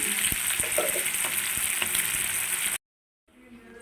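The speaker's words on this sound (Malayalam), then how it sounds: "ഇത് ഞാൻ പൊരിക്കുന്നത് വെളിച്ചെണ്ണയിലാണ് പൊരിക്കുന്നത്" Parrotfish sizzles and crackles steadily in hot coconut oil, close and loud, then cuts off abruptly before a quieter sizzle returns.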